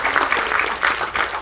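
Audience clapping at a film audio launch event for the movie Sir, a steady wash of applause from a crowd with slight swells, filling the whole moment without speech.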